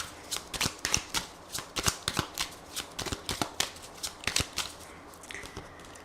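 A deck of Lenormand cards is shuffled by hand, giving a quick run of crisp riffling snaps and slaps, close and clear, with no one talking.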